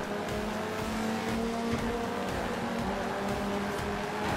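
A car races in Forza Horizon 3 with a loud, steady engine drone and a sustained whine that holds its pitch and wavers slightly, unbroken throughout, with no one talking.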